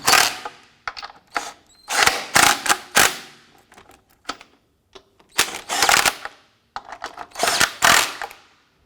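Lug nuts are run down on a Honda Civic wheel with an impact wrench, in a string of sharp, close rattling bursts separated by short pauses.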